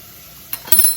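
Clean metal spoon scraping and clinking against a jar of home-canned tomatoes, a few short, light taps and scrapes close by in an otherwise quiet kitchen, no talk.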